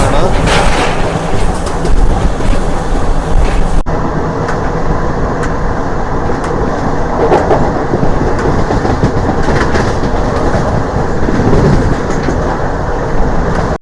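A DEMU express passenger train running from Nandyal toward Tirupati, heard from on board as a loud, continuous rattling roar with rhythmic clickety-clack of wheels on rail joints.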